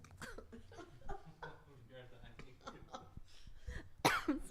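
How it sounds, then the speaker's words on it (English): A person coughs a few times after taking off a face mask at an experimental game culture event, the coughs coming amid talk in a room, with a sharper, louder burst near the end. "putting the mask off means coughing"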